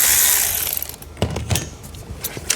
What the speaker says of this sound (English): undo this bolt